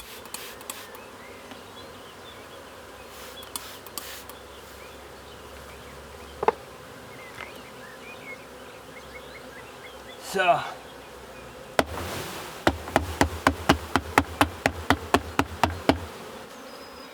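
Faint honeybee buzzing hums in the background, broken by a few sharp knocks and then a quick series of regular tapping sounds; a voice speaks briefly.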